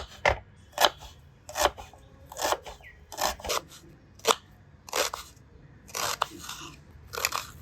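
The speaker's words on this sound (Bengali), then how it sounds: "পেঁয়াজগুলোকে এবার কেটে নেব।" Onions chopped with a knife on a board: about a dozen sharp, crisp chops in an irregular rhythm, close and fairly clear over a quiet background, with no talk.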